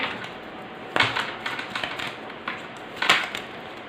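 Tarot cards gathered up from a table, soft shuffling and sliding with a few sharper taps and clacks, close and moderately loud with no talking.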